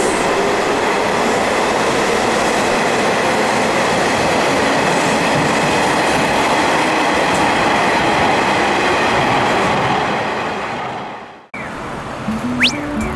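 A Nishitetsu 6000 series train pulls away from a station, a loud steady rumble of wheels and motors that fades near the end before a quieter platform ambience with a faint tone.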